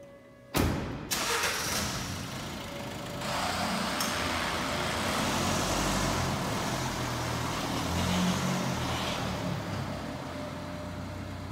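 A Fiat 500X 1.3 MultiJet diesel on a road test drive: a sharp thump like a door closing, then a steady engine and road drone from inside the cabin that swells slightly as the car moves off.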